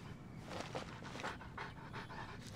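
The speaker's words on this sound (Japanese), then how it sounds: "てかめちゃくちゃワンちゃんついてくるんだよね。" A dog pants rapidly and steadily while following the player in the game Genshin Impact, a soft breathy rhythm heard close against faint background sound.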